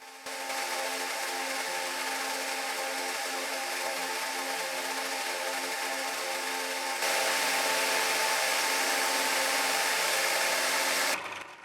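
A belt sander grinds steadily on a carbon fibre knife handle, flattening it with a continuous whirring hum that grows louder partway through and then cuts off at the end.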